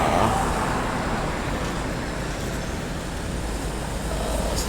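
A Yoanda Prima coach at a bus terminal, about to leave for West Sumatra, fills the scene with a steady, fairly loud engine and traffic rumble that carries on evenly without a break.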